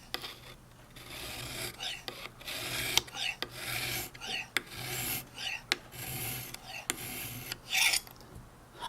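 A knife edge being hand-sharpened, with repeated rasping strokes of steel against a stone in an irregular rhythm, close and moderately loud, with no talking.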